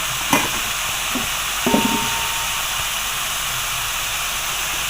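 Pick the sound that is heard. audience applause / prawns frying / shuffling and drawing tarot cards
prawns frying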